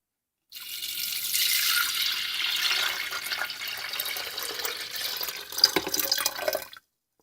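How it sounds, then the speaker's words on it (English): Water pours in a continuous splashing stream into a Hamilton Beach electric kettle, close and fairly loud, rising slightly in pitch as it fills before stopping abruptly after about six seconds. "So I'm going to pour in the water."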